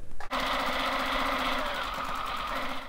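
Sewing machine running steadily as it stitches white thread through felt for a costume belt flower, a continuous close buzzing whir with a sharp start after a brief pause, no talking.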